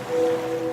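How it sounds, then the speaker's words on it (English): Ocean wave sound effect in a laundry detergent advert, a brief steady wash of surf with a low tonal hum, loud and without speech. "now you're drifting asleep to the scent and sound of waves"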